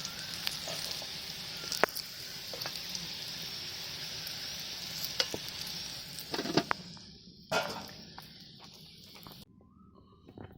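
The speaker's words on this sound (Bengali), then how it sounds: "এখন মাছ ভাজা হচ্ছে" Fish frying in a pan gives off a steady, moderate sizzle with a few sharp crackles and pops. It thins out into quieter spitting toward the end.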